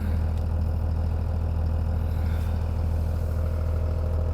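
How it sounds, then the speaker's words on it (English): A 2001 Dodge Ram 2500 pickup idles steadily close by, a low constant rumble with a light rhythmic clatter and no talking. "There's the idle right there."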